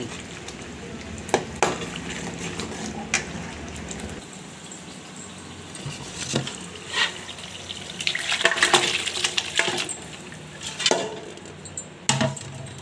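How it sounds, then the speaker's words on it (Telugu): A ladle stirring mutton drumstick kurma masala in a pan: steady sizzling and frying with scraping, clinking strokes of the ladle against the metal, close and continuous with no talk. "ఇప్పుడు ఈ మటన్ని మసాలాని ఈ గరిటతో బాగా తిప్పుకోవాలి"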